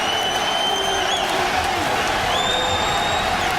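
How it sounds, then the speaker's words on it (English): A large arena crowd at a professional MMA bout roars and cheers in a continuous, loud wash with scattered whoops and whistles, while faint commentary runs underneath. "Ben Henderson looking for a way as the crowd comes alive"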